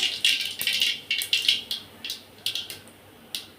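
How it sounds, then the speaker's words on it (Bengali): Mustard seeds crackle and pop in hot oil, after fish has been fried, making a close, irregular burst of sharp snaps that fades to scattered pops. "তেলটা বেশ চিটচিট করে ফুটছে।"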